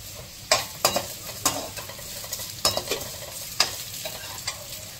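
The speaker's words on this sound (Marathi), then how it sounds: "लसूण घातले, मातशें तेका फ्राय जावपाक दिवता" Garlic and fennel seeds fry in mustard oil for a bitter gourd sabzi, a low continuous sizzle broken by scattered sharp pops and spoon scrapes against the pan, close and without talk.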